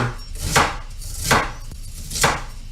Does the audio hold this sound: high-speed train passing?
no